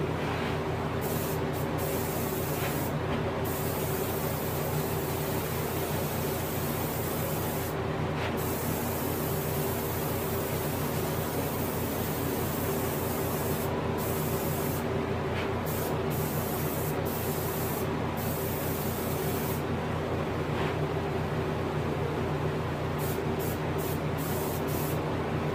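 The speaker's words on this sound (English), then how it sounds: "I just let my airbrush take care of that." An airbrush sprays paint onto a reproduction rainbow trout in a continuous, close hiss with a steady compressor hum underneath, unbroken throughout and with no talking.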